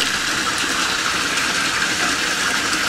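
Water draining through an aquaponics auto siphon, built from 25 mm pipe inside a gravel bed, a steady close rushing gurgle that holds evenly throughout with no talking.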